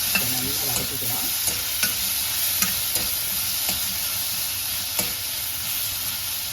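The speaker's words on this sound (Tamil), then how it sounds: "இதை நல்லா வதக்கிக்கலாம்." Ingredients sauté and sizzle steadily in a pan for a Coimbatore-style mochai brinjal kara kuzhambu, with a constant frying hiss and periodic soft scrapes of a stirring spoon, close and continuous without talk.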